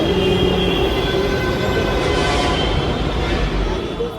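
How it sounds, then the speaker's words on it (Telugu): A Bangalore metro train running into the station, a steady loud rumble of wheels and motors with a faint tonal whine and a few background voices. "ట్రైన్ అదే"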